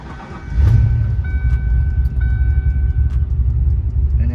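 A 1993 Ford Mustang Cobra turbo Foxbody engine catches and settles into a loud, rough, rumbling idle close by, a deep steady growl with faint higher whines over it.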